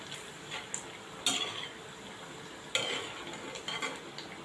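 Sabudana vadas frying in a pan get turned one by one, with a soft steady sizzle broken by sharp metal spatula scrapes and clinks against the pan, close and fairly quiet.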